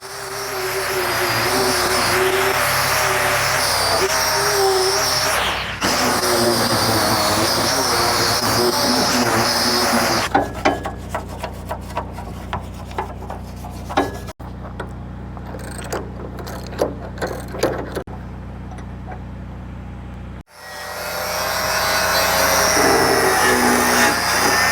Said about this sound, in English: I've got the wire cup wheel on here next. We're gonna try to get this all cleaned up and ready for paint.